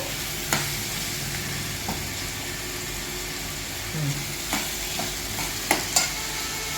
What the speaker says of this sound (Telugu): టమాటా, పచ్చిమిర్చి ఇది కూడా వేసేస్తున్నా